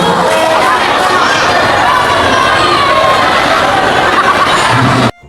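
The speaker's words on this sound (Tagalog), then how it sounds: "pakinggan muna natin dito yung sinisigaw ng mga manonood" Spectators shout and cheer in a dense, loud roar at an inter-barangay basketball finals game in a town plaza in Cardona, continuous crowd noise with children's yells and babble throughout, cutting off abruptly near the end.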